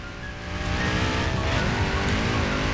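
Audi RS4 at full throttle in Forza Horizon 4, a loud continuous engine roar climbing steadily in pitch with faint tyre noise, close and alone without talk.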